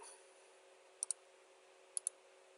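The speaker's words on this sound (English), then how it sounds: "I'm going to right click on it" Two quick pairs of faint, crisp computer mouse clicks, spaced about a second apart, over a quiet steady hum.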